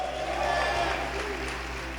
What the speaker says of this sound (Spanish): dale un aplauso muy fuerte